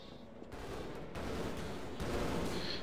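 Shotgun blasts fired in a video game, loud and sustained, with repeated bursts blending into a dense gunfire-like roar over about three seconds.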